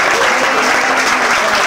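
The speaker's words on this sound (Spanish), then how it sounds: "Denle un aplauso a ese papá" A church congregation breaks into loud, continuous applause, a dense, close wash of clapping with a faint voice briefly audible underneath.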